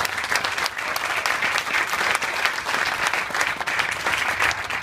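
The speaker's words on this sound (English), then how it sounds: "Give them a round of applause as well." Sustained crowd applause at a supermarket grand opening in Newark, many hands clapping in a dense, even, moderately loud roar that continues without pause.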